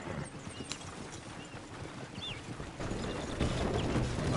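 A horse walks along with steady hooves clip-clopping at close range, the rhythmic hoofbeats sitting over a light outdoor background that grows a little louder toward the end.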